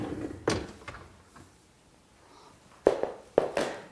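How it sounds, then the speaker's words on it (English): An LG dishwasher rack being pulled out, with a few sharp knocks and a rolling clatter close by, separated by a quiet pause. "remove the rack"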